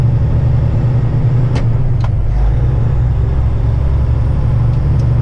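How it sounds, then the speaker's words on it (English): A steady low truck engine rumble runs throughout, a heavy truck carrying a CAT 336 excavator idling or cruising close by, with a couple of faint clicks above the drone. "Yeah, the truck sounds pretty good."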